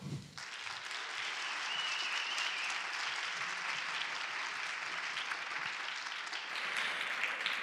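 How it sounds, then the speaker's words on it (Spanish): An audience at a science talk event applauds as speaker Ana Peiró is welcomed, sustained even clapping that starts abruptly and holds steady at a soft, somewhat distant level. "podremos ya dar un aplauso a Ana Peiró"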